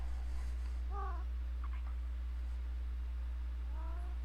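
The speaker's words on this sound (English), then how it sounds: "my cat says thank you for listening" A cat meows several times, short soft mews spaced apart over a steady low hum, close and fairly quiet.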